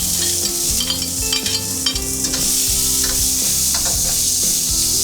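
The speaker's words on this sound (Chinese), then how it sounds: "锅中倒入少许底油，大火烧热，下洋葱、青红椒、大蒜和半勺花椒。" Onion, green and red peppers, garlic and half a spoon of Sichuan peppercorns stir-frying in a little hot oil over high heat, a loud close sizzle with spatula scraping against the wok throughout, no voices.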